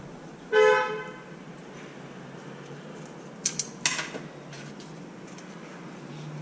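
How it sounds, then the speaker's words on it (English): Car horns honk from outside, one longer blast early on followed a few seconds later by a couple of shorter, fainter toots over a steady background hum. "People out there honking."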